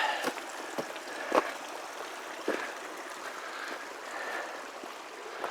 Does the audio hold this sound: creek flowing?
yes